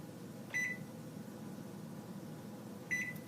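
A kitchen timer, set while quiche bakes, gives two short, clear electronic beeps about two and a half seconds apart over a low, steady hum of kitchen appliance noise.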